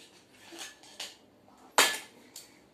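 Toy plate set down while serving pretend egg food, heard as a few light plastic clicks and one sharper clack near the end, close and fairly quiet.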